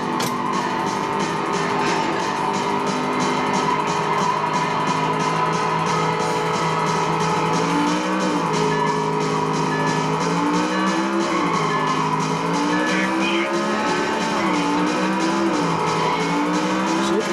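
A racing car from a driving video game hums along with a steady engine drone that rises and falls in pitch as it accelerates and shifts gears, mixed with a constant synthetic rattle and buzz, with no talking.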